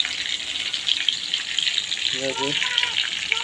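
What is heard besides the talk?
pomfret fish frying in pan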